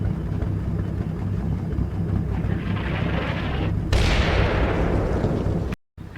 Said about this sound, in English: we're actually hitting close to the target area already with the artillery